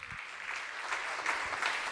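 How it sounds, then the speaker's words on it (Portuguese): A church congregation applauds during worship, a faint, steady wash of clapping from many hands heard at a distance. "levante um aplauso ao Senhor"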